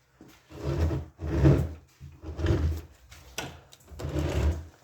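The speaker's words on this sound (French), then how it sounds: "On va essayer de la lever, tu peux pas la lever la porte" A wooden house door is heaved and shifted in repeated bursts of creaking, scraping wood, each push lasting about a second with short pauses between, close by.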